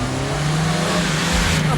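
A car approaches with a steady engine hum that swells slightly near the end, fairly loud and close, set in a 1995 police drama scene.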